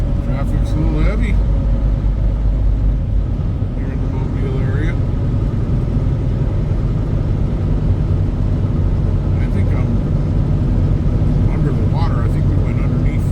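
A truck rolls through heavy traffic with a loud, steady engine and road rumble throughout, and other vehicles pass now and then.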